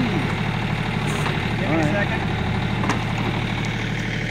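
A John Deere compact tractor engine idles steadily nearby with a continuous low chugging hum, while people talk over it.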